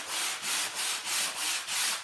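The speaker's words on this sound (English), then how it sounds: "and then you take your sanding sponge," A sanding sponge rubs back and forth over wood freshly brushed with hemp oil, giving a close, rough, steady scraping in about six even strokes with no talking.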